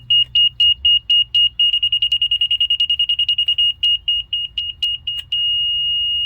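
A laser level receiver's high electronic tone beeps in a steady pattern, speeding into rapid pulses, slowing again, then holding as one continuous tone at the end.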